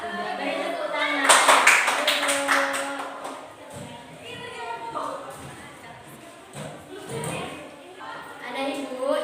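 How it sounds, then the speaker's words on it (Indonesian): A classroom of students claps briefly, a short ragged burst of hands early on that gives way to a teacher and pupils talking. "Beri tepuk tangan."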